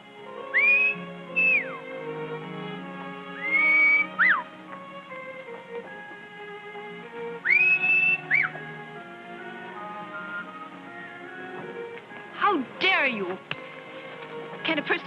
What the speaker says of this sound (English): I could have sworn I recognized that whistle.